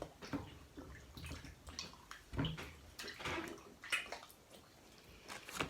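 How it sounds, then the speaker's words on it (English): Clay slurry being rinsed off hands with water at a primitive pottery site, soft splashing and trickling in short irregular bursts, close and fairly quiet, with drips and wet squishes between. "Rinse my hands out here."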